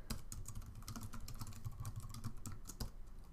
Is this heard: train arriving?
no